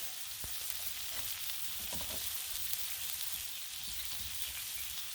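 Country fried steak sizzling steadily on a Blackstone griddle, a continuous close hiss and crackle with occasional pops and scrapes, no talk.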